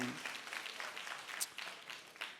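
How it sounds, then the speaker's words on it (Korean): A church congregation claps for a young member, a soft, fairly distant round of applause that runs steadily with a few sharper claps standing out. "우리 유은이에게 박수 한번 보내드리겠습니다"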